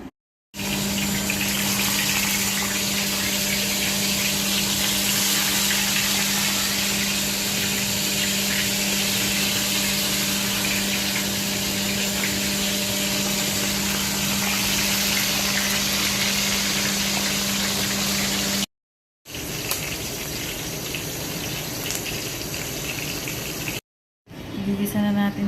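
Galunggong (round scad) fish frying in hot oil, a loud, steady hiss of sizzling that runs almost continuously with a couple of brief cuts.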